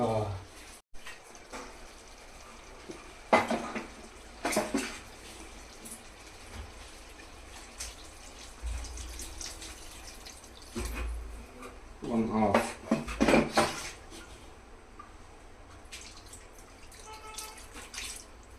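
Water poured into mutton curry cooking in a pan, with quiet splashing and pouring bursts at intervals under a low, steady background, while people talk intermittently.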